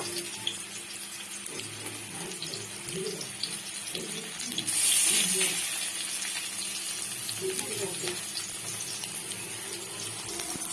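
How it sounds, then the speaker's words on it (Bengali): Mango pieces frying in a pan of oil: a steady, moderate wet sizzle and bubbling runs throughout, swelling briefly in the middle, with faint clatter in the background. "এখন মা আবার দিয়ে দিচ্ছে বাকি আমগুলো। তো একই রকম করে ভেজে নেব"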